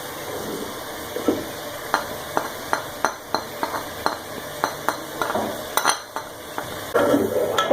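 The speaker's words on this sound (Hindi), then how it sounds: "टमाटरों को सॉफ्ट होने तक पकाते हैं" Tomatoes with red chili, coriander powder and black pepper sizzle in a pan for a chicken rice dish while a spoon scrapes and stirs in a steady series of close, sharp strokes over a constant frying hiss.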